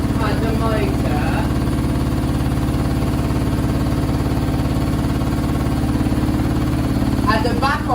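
A Candy SmartTouch washing machine runs its final spin badly unbalanced, a loud steady low motor drone with thumping hum that holds throughout, a few brief higher sounds flickering near the start and end.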